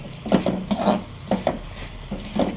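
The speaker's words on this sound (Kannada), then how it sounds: "ಈ ರೀತಿಯಾಗಿ ಫ್ರೈ ಆಗಬೇಕು ನೋಡಿ ದ್ರಾಕ್ಷಿ ಎಲ್ಲ ಉಬ್ಬಿ ಬರ್ತಾ ಇದೆ" Dry fruits and raisins fry in a pan while a spoon stirs them, making short, repeated scraping and clattering strokes in uneven bursts over a soft background sizzle.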